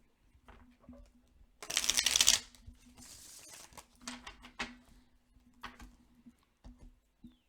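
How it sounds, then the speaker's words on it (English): A deck of tarot cards riffles in a quick, loud burst, followed by softer scattered taps and shuffles as the cards are squared and handled up close in a quiet room. "Let's get one more shuffle here."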